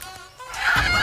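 Chickens being caught give a short burst of loud, close squawking clucks, rising sharply over about a second.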